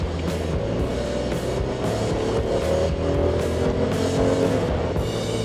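A BMW F10 528i with an N52 engine accelerates hard, its engine note rising steadily through the revs with loud road and wind noise, heard from inside the car without speech.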